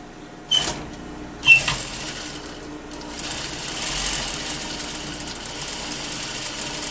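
Sewing machine stitching a lining piece onto one layer of a welt pocket, two sharp mechanical starts followed by a quieter steady running hum, close by.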